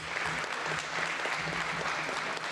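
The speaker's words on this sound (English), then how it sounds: "A round of applause for our officials," A high school gym crowd at a boys basketball game applauds the officials before the anthem, a steady, even patter of clapping that sounds somewhat distant and soft throughout.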